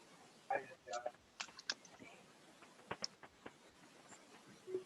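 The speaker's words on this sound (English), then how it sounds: "Tell me when to stop shuffling." A deck of playing cards being shuffled during an online meditation gathering, a series of quick riffling clicks and flutters in short bursts, close and moderately faint, with brief pauses between them.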